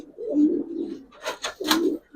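Old-breed red Giribaz pigeons cooing in a loft, low throaty coos rising and falling across two seconds, with brief brighter bursts like wing flutter or shuffling near the end.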